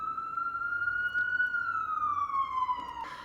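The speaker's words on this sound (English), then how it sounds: "I'm actively listening to these sirens outside." Emergency vehicle siren passing outside, a single steady wailing tone that slowly rises and then falls as it goes by, fairly loud and continuous with no talking.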